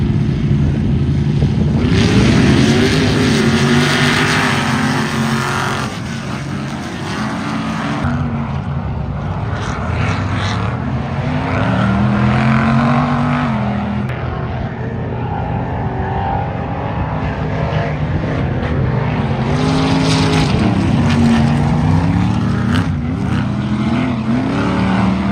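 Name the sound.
Ultra 4 off-road race vehicles racing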